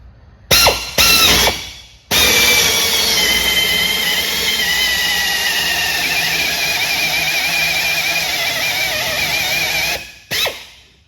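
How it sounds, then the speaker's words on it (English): A power drill drilling a pilot hole in a boat deck for cutting in a front hatch runs loudly and steadily for about eight seconds, with brief starts and stops at the beginning and end. "Let's go ahead and drill it in real quick."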